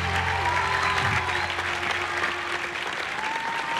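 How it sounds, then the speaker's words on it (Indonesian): Studio audience applause for a singing duo on a televised music show, a continuous wash of clapping from many hands with a held tone of music or voice beneath it. "Perfect, tepuk tangan."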